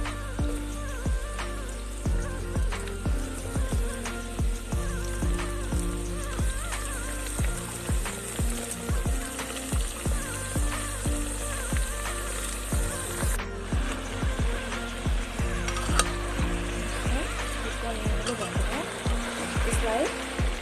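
Pumpkin pieces tip into taro root curry already frying in a pan, with steady sizzling and scattered crackling pops running throughout alongside soft clinks, fairly close and moderately loud, with no talking.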